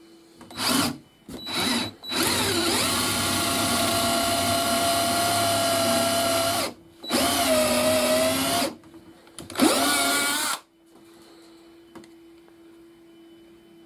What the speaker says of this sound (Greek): Έχω βάλει ένα τρυπάνι ξύλου 10 χιλιοστών